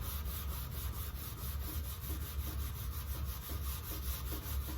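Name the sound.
rubbing tarnish off a recteq Bullseye grill lid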